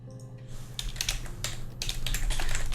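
A search word is typed on a keyboard in Her Story, a quick run of close, crisp key clicks in an uneven rhythm that grows slightly louder toward the end.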